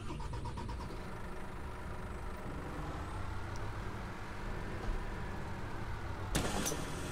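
A video game coach bus engine starts and idles with a steady low rumble, ending in a sharp hiss like an air brake release.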